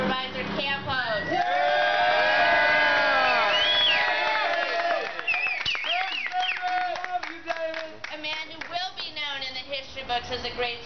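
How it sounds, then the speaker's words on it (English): An audience bursts into clapping, cheering and whoops for a local supervisor at a civil rights gathering, loud and lively at first, then thinning out as a speaker's voice rises over the fading applause. "let's give a big round of applause for Supervisor Campos."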